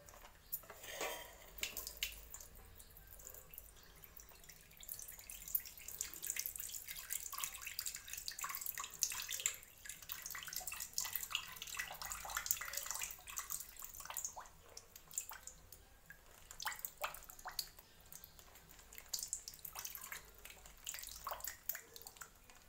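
Liquid pours and splashes softly into a container, with occasional light clinks of a metal vessel, quiet and fairly continuous.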